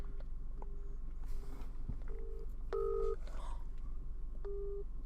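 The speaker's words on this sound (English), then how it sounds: "Line busy, he's on the phone!" Telephone tones come through a phone in a quiet car: a series of short, evenly spaced beeps of the busy signal and dialing, moderately faint, mixed with light rustling and small knocks.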